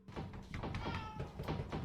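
A cat meows faintly a couple of times in a quiet room, with a soft thump or two underneath.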